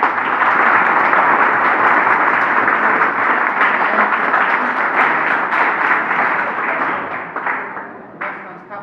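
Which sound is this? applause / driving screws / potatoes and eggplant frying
applause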